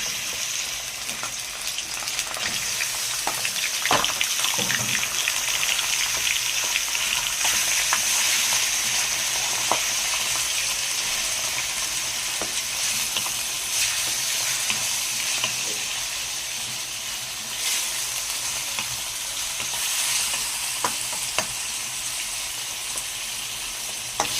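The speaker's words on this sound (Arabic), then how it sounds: "انزل باللحمه المفرومه" Minced meat frying in a pan with a steady loud sizzle throughout, broken by occasional scraping and clinks as it is stirred, close and continuous, no voices.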